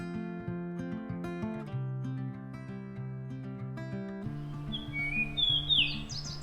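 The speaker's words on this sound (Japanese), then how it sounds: "そして朝は鳥のさえずりが美しく、" Morning birdsong in a high-altitude forest campground in Nagano, Japan, with bright chirps and quick trills rising over gentle instrumental music during the final couple of seconds, fairly close and clear.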